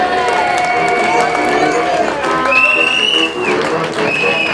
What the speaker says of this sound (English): Put your hands together, clap your hands, stamp your feet, blow your whistle, wave your flag and welcome the riders on track